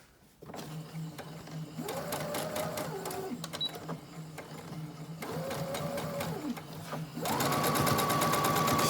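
A sewing machine stitches a fabric face mask in three bursts of rapid, rhythmic whirring. Each run rises and falls in pitch, separated by short pauses, and the last run is the loudest and steadiest.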